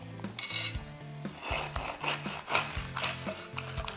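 A knife slices through crispy Filipino lechon kawali, deep-fried pork belly, giving a series of close crackling crunches and scraping rasps against a plate, with a steady background tone underneath.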